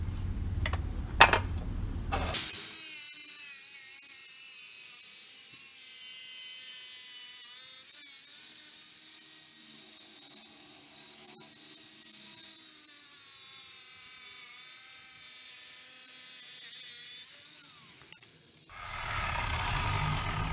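Ridgid 8-inch wet tile saw ripping through hard porcelain tile: a steady, moderately loud whining grind lasting about sixteen seconds, framed by louder motor noise at the start and end.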